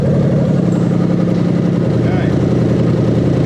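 A Lexus LS400 with a 1UZ-FE V8 engine, a 1995–1996 right-hand-drive automatic, idles steadily and loudly nearby, and a voice speaks briefly over the running engine.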